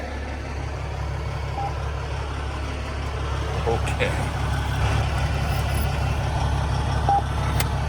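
A big truck rumbles with a low, steady engine drone while driving and maneuvering, a faint beep cutting through briefly and a voice speaking once.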